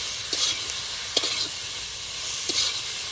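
Ridge gourd thecha fries in a pan with a steady close hiss and sizzle, a few soft scraping stirs breaking through the constant frying noise.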